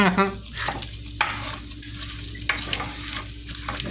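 Chopped bacon frying in a pan, a steady close crackling sizzle with occasional sharp scrapes of a utensil against the pan.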